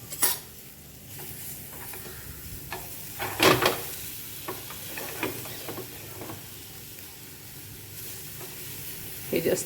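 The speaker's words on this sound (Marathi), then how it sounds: "त्याच्यामध्ये हे संत्र्याचे बारीक केलेले पीस हे साधारण दोन एक ते दोन मिनिटमध्ये शिजून घेते" Finely chopped orange pieces cooking with jaggery in a pan for orange barfi, stirred now and then: a soft bubbling sizzle under sharp spoon scrapes and clinks against the pan, with a few louder bursts.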